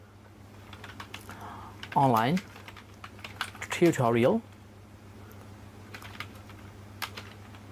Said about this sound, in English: Now I'm typing